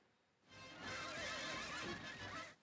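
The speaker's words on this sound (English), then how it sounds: "You can't bring that horse in here." A horse whinnies loudly and at length in a film scene from The Man Who Shot Liberty Valance (1962), a single drawn-out neigh with wavering pitch, close and alone with no talk over it.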